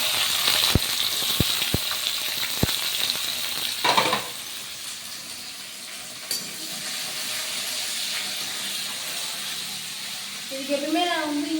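Chopped onions and green chillies fry in hot oil with a steady hiss and crackle, marked early by several sharp clinks of a utensil against the pan.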